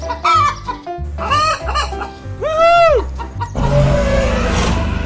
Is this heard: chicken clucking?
yes